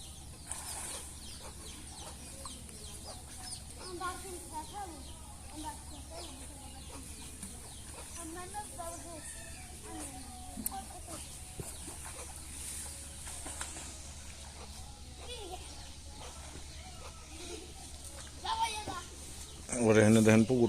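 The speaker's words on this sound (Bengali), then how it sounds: "ওর এখানে দেখেন পুকুর পাড়ে গ্রামের দেশি মুরগি দেখতে পাচ্ছেন। দেশি মুরগি পাতা খাইতেছে" Village desi chickens by a pond give faint, scattered clucks over a low steady hum, with murmured voices in the background and a louder burst of sound at the very end.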